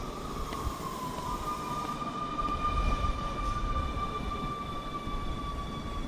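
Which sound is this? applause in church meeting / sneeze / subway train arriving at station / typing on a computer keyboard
subway train arriving at station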